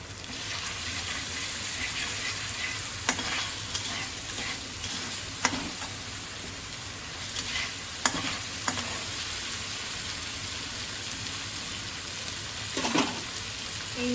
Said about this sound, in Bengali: এটা জাস্ট মশলাটা একটু ভাজার জন্য অল্প একটুখানি সল্ট দিয়ে দিলাম।